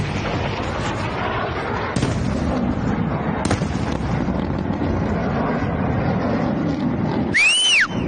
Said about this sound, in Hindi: बैकग्राउंड में धमाकों की आवाज सुनाई देती है